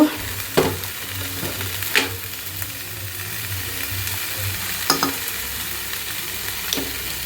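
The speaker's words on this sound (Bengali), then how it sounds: "এই যে আলু একসাথে ভাজি করব" Potatoes fry in a pan with a continuous sizzle while a utensil stirs them, sharp scraping knocks landing every second or two, close and without talk.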